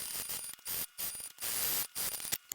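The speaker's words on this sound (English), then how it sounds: "I'm sewing all along this edge with the seam allowance given." Sewing machine stitching along a fabric bag edge, steady mechanical whirring runs in bursts with short pauses between, close and continuous while each run lasts.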